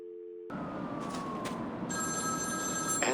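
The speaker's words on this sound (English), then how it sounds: "Answer my phone and answer it quick, Batman." A phone rings in the video game Batman: Arkham City, an electronic tone over a dense, steady game ambience with siren-like drones.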